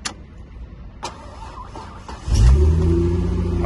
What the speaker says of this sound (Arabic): طيب نشغل السيارة،